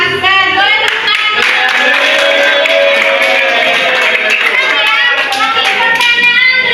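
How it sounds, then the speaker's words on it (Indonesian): Students in an Indonesian university teaching-practice classroom clap together for a correct answer, a steady close patter of hands mixed with loud overlapping children's voices and chatter for the whole stretch. "Boleh tepuk tangan."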